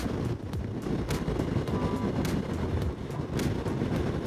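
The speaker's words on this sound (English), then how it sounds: "there's a definite windy bit going on" Wind buffeting the microphone while riding a new 2024 Honda NC750X motorcycle, a continuous rough low roar with gusty bursts, heard close and loud with no talking.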